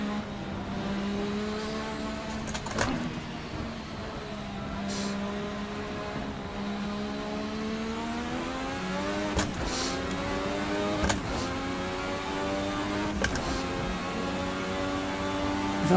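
A 1986 Formula RSS V6 race car in the Assetto Corsa racing game whines loudly, its engine climbing through revs with sharp clicks at each gear change and brief dips between shifts, steady and continuous throughout.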